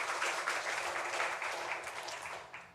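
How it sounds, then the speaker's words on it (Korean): Congregation applauding during a Sunday church worship service, a steady dense wash of clapping that fills the whole moment and slowly fades toward the end, with no talk over it. "하나님께 영광의 박수 올려드리겠습니다"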